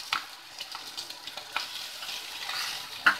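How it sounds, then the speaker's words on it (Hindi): Paneer frying in a pan for soya chilli masala, a close sizzle broken by irregular scrapes and taps of a spatula, with one sharper clack near the end. "बस को एक से दो मिनट बस भूनना है"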